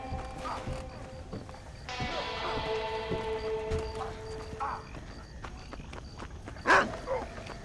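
In the Red Dead Redemption video game, a dog gives a single sharp bark near the end, heard over steady horse hoof clip-clops and faint ambient game sounds.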